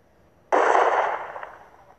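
A grenade explodes in the online game Hide Online, one sudden loud close blast that decays over about a second and a half.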